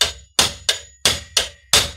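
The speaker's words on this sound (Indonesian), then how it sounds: "Pakainya palu gini guys." A hammer strikes an HL Premier ring wrench six times in an uneven rhythm, each blow a sharp, loud metallic clank with a short ringing decay, close up with no talk.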